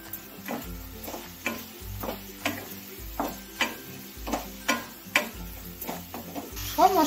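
Kohlrabi sautéed in a pan with cumin and coriander powder: a steady, rhythmic series of spatula scrapes and stirs over a soft, continuous sizzle, close and moderately loud, with no talking.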